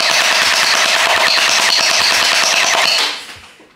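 A Nerf Gel Fire blaster shooting full automatic into a sheet of bond paper, a dense, rapid stream of close, loud shots running for about three seconds before cutting off and fading.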